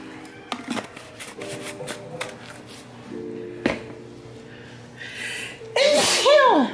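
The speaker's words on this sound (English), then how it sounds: "Every time you use some Tony's, it makes you sneeze." A person sneezes loudly and close by while seasoning a crab-stuffed salmon with Tony's seasoning, a single sharp burst near the end after quieter kitchen clatter.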